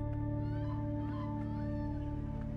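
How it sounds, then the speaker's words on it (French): Cat meowing in the horror game Oxide Room 104, a steady close mew over a constant droning hum and low rhythmic game ambience. "C'est un chat"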